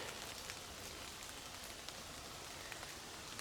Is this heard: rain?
yes